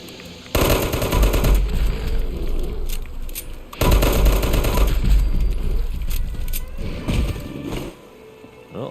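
Rapid bursts of pistol fire from a first-person shooter during a hunt, in two long loud volleys of fast repeated shots, each lasting a few seconds, with a quieter gap between them and no talking.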